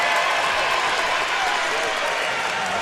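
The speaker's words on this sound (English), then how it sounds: "The crowd getting more and more into it as Miles turning up the pressure on defense." Basketball crowd at a men's college tournament game applauding and cheering, a dense, loud, continuous roar of clapping and voices.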